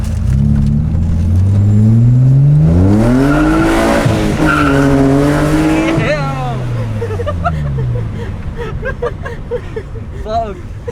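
A car, likely a BMW E30 with an S52 engine, arrives fast with its engine revving loudly and its tires skidding and squealing close by. The sound sweeps up and down, then fades toward the end.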